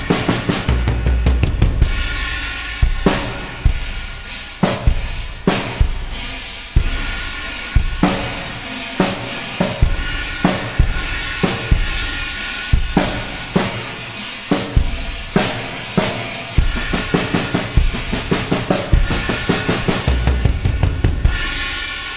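A drum kit plays a driving beat with a crash cymbal and hi-hat, sharp loud hits repeating in a steady rhythm with cymbal wash ringing between strikes and no talking.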